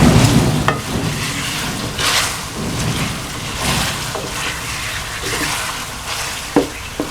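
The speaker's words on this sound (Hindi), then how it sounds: "4 से 5 मिनट के लिए इसको फ्राई करेंगे।" Chicken frying in a pan for a chicken and pea curry, a loud close sizzle with scraping stirring strokes at intervals, steady throughout and without talk.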